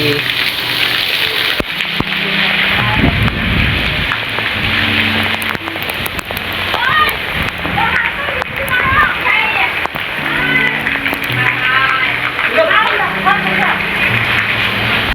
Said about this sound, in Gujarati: તો ભાઈ બહુ જ મસ્ત વરસાદ આવે છે